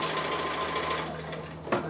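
A sewing machine stitching an appliqué, a fast steady whir of needle strokes close by, ending in a brief clunk as it stops.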